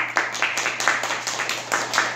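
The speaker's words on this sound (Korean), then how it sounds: "세 분 선생한테 박수 한번 쳐줘요" A small audience at a mind-study gathering in a Korean temple hall gives a brief round of applause, a modest patter of hand claps rising and falling over a couple of seconds, nearby and moderately loud.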